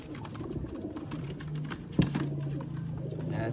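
Sialkoti pigeons held in a loft give low, rolling coos near at hand, one drawn-out call standing out midway over a faint background of rustling and flutter, with no talking.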